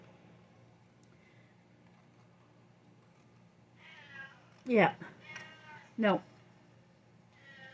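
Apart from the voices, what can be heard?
cat meowing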